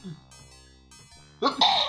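A person sneezes loudly and abruptly close to the microphone near the end, following a stretch of background game music and faint voice, during a livestreamed play of a point-and-click adventure game.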